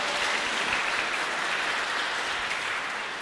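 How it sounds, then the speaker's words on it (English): Steady applause from a conference audience thanking a speaker at an open data event, a dense wash of clapping throughout that eases off slightly at the end, with no voices over it. "Big applause."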